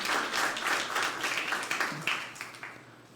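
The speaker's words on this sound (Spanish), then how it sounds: "Un aplauso para el Señor" A church congregation claps in applause during a Spanish-language service, a dense rippling burst of hand claps that gradually thins and fades out.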